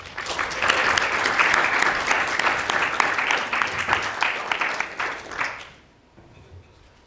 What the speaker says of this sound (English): So if you please give a round of applause to our final speaker, Andrew.